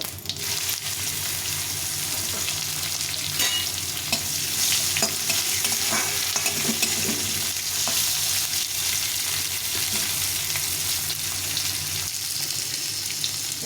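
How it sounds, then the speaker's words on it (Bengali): Bitter gourd fries in a pan with spices for a Bengali shukto, a steady close sizzle running throughout with occasional scraping as it is stirred. "প্রথমে উচ্ছেটা ভেজে নেব।"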